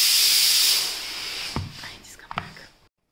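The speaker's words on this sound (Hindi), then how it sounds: "कुकर की सीटी भी बज गई थी क्योंकि मैंने दाल चढ़ा रखी थी" A pressure cooker cooking dal lets off a loud, sustained steam whistle that hisses for about a second and a half and then fades, followed by brief talking.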